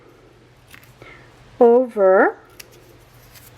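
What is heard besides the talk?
cutting paper into pieces for a craft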